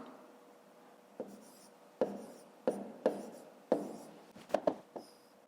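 Pencil writing numbers on paper during a fifth-grade maths exercise, a soft continuous scratch broken by several sharper taps and strokes, close and quiet, with no voices.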